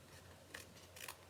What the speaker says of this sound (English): we're gonna trim off so grab your paper scissors